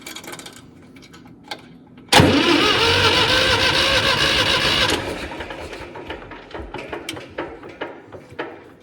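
A hot-wired tractor engine cranks without firing because there is no spark: a sudden loud, rough mechanical churn runs for about three seconds, then drops to softer scattered clunks and rattles.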